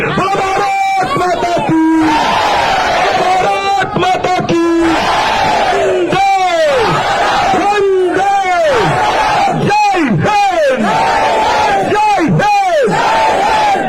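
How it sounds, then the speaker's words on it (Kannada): A large crowd at a political rally chants a victory cry for Mother India in unison. Loud, repeated shouted chants rise and fall in a steady rhythm, close and continuous, with a leading voice calling between them. "ಒಂದ್ಸಲ ಉಚ್ಚ ಕಂಠದಲ್ಲಿ ಭಾರತ್ ಮಾತೆಗೊಂದು ಜೈಕಾರ ಕೊಡಿ"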